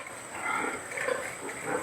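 Newborn piglets on a hog farm grunt softly in a low, scattered chorus, faint and close, with small overlapping snorts and squeaks and no talk.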